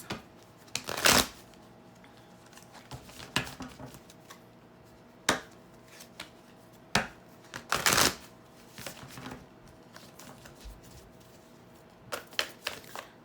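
Spirit Animal Oracle deck cards being shuffled and handled, with sporadic crisp riffles and taps, a few louder flurries among quiet gaps, close and clear with no talking.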